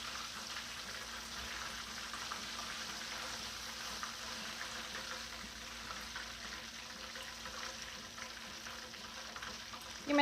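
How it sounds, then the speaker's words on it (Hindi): Chicken wings fry in hot oil, a steady, faint hiss and crackle that runs unbroken and alone for about ten seconds. "हमारे सारे चिकन विंग्स फ्राई हो चुके हैं।"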